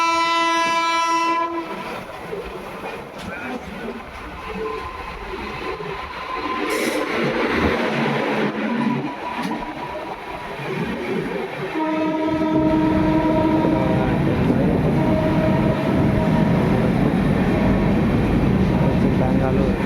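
Shalimar Express passenger train running with a steady rumble and rail clatter, its horn sounding in long sustained blasts near the start and again toward the end, close and loud.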